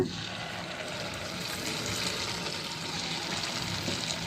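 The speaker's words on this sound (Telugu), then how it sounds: "ఆయిల్ హీట్ ఎక్కింది. మనం పునుగులు వేసుకుందాం." Punugulu batter fries in hot oil, a steady, dense sizzle holding at an even level throughout without pauses.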